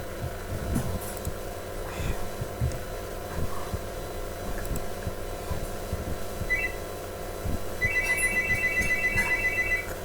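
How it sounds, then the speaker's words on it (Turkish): A phone rings nearby with short bursts of bright repeated electronic tones, rising above steady background sound from a Metin2 computer game session. "telefon çalıyor"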